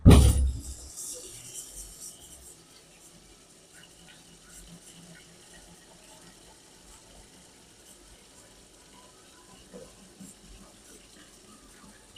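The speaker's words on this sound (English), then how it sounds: "Now let's give it one more rinse." Running water rinsing brass cartridge cases from a stainless media tumbler, a steady close hiss of flow that starts loud and settles into a quieter constant wash, with no clear talk.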